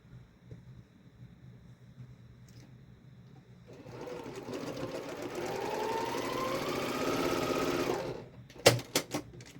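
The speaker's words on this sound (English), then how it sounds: "I'm going to sew both these together first" Sewing machine stitching quilt block pieces together, a steady close mechanical whir that starts after a quiet pause, holds for several seconds, then stops, followed by a few sharp handling clicks.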